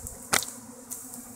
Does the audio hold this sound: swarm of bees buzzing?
yes